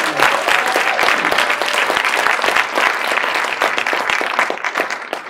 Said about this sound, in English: Let's give a great round of applause to Dr. Murthy.